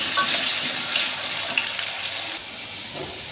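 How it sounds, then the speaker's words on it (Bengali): Potatoes frying in a pan with salt added, a steady close hiss and sizzle of oil that runs continuously throughout, with no voices. "আলুটাকে লাল হওয়া পর্যন্ত আমি যতক্ষণ না হবে ততক্ষণ ভেজে নেব"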